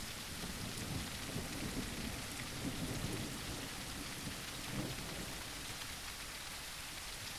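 An Unreal Engine 5.3 game-world thunderstorm: continuous heavy rain hisses across surfaces while deep thunder rolls underneath, even and unbroken throughout, with no voices.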